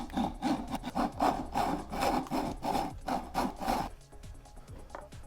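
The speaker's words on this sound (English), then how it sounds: "cut this right here at this line, and I'm just going to use a" A hacksaw cuts through a plastic prop part for a Boba Fett jetpack prototype, with about a dozen steady back-and-forth rasping strokes up close, then stopping.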